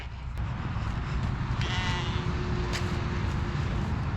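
A sheep bleats once or twice amid steady farmyard background noise, the calls fairly close but partly blended into the low rumble.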